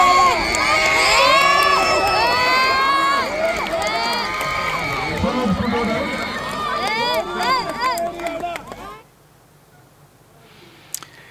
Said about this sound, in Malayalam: വിലയേറിയ കൈയടികൾ നൽകിക്കൊണ്ട് വളരെയധികം പ്രോത്സാഹനം നൽകണമെന്ന് അഭ്യർത്ഥിക്കുന്നു.